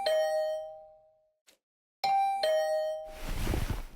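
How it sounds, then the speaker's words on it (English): A doorbell in the video game Hundred Line: Last Defense Academy chimes twice with bright, ringing tones separated by a short silence, then a burst of noisy rustling sound follows. "Hearing the doorbell stubbornly ringing again and again, I finally got up."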